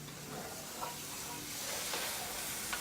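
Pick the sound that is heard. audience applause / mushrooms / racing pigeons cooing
mushrooms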